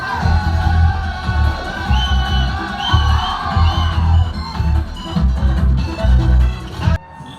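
A packed cinema crowd at a Chotta Mumbai re-release show in Kottakkal keeps up a loud, continuous roar of cheers, whoops and yells in swelling waves, cutting off abruptly at the end.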